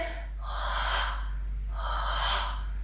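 Two strong, breathy exhales come about a second and a half apart, close to the microphone, during a Pilates twist that works the obliques. The breaths are heard alone, with no talking.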